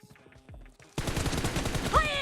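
Gunfire in PUBG Mobile: a few scattered shots give way to rapid sustained automatic bursts, loud and dense, with a brief rising whine near the end.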